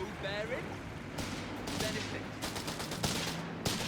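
MG42 machine gun fire in the strategy video game Company of Heroes 3, heard as a few short, fairly faint bursts of rattling shots over a steady battlefield background.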